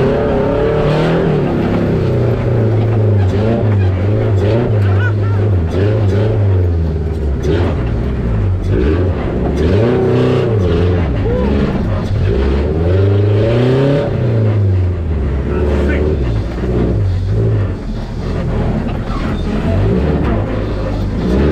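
A Suzuki Jimny crawls off-road in low-range 4L, using first and second gear, its engine droning loudly and steadily with rising and falling revs, close and continuous throughout, with people talking over it.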